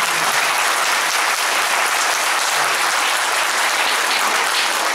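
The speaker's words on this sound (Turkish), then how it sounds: "Bir alkışlarınızı ben rica edebilir miyim?" A concert audience at a Turkish classical music association's winter concert claps steadily, dense close applause filling the whole stretch with no talk.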